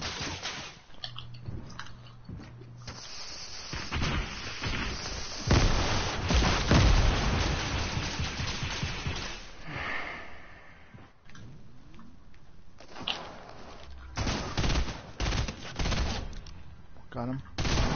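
Dense gunfire and explosions from an online shooter video game, with rapid bursts, heavy blasts and loud fusillades throughout, partly mixed with a player's voice.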